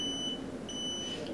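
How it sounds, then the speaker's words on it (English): A Grand Miko AI electronic chess board gives two high beeps after a game is resigned, the second longer, ringing out over a low background hum. "once you resign, it makes that beeping noise"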